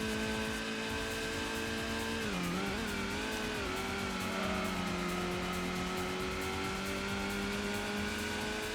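A Nissan Skyline race car in Gran Turismo's GT Mode 4WD Challenge drones along at speed, its engine note holding steady with a brief dip and swoop through a corner, loud and continuous with no voices.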